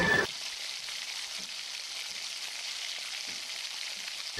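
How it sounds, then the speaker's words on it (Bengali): Sugar is mixed into fried chutney in a pan, producing a steady, fine frying hiss with a few faint scrapes from a utensil, close by and unbroken by speech. "এরপর চিনিটি দিয়ে আরও ভালো করে মিশিয়ে নেব"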